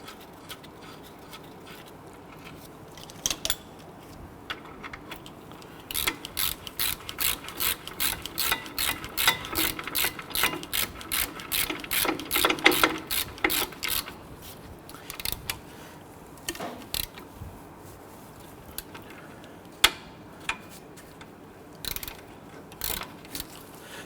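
A ratchet runs down brake bolts on a Hummer H3, giving rapid, close clicking bursts in a steady rhythm, with a few shorter clicking spells and scattered metallic knocks before and after.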